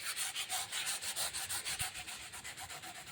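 Close, steady scuffing of black gloss and primer off a surface for painting prep, a rhythmic rubbing rasp with even back-and-forth strokes at a brisk pace, with no voices.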